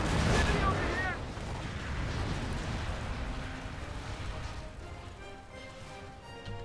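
Gunfire and artillery blasts in the Company of Heroes Causeway battle, a dense continuous barrage of shots and booms, loud at first and then steady, with voices talking over it.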